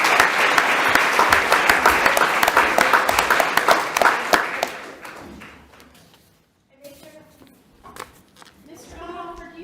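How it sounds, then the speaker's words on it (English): Audience applause for students at a school board meeting, dense and loud for about five seconds, then fading out to near silence before a few voices speak quietly. "one more round of applause just because they deserve it"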